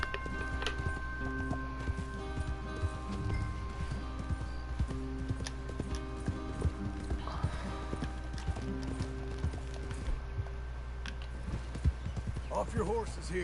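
Steady clip-clop of horse hooves at a gallop in Red Dead Redemption 2, with an occasional whinny, under people talking and background music.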